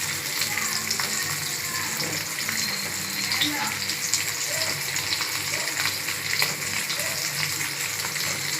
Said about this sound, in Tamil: அந்த மீனையும் பொரிச்சு எடுத்துறேன்.